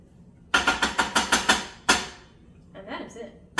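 Cooked rice stirred in a pot on a stovetop with the heat off: a quick run of seven sharp clattering scrapes, a louder knock, then softer shuffling, close and without talk.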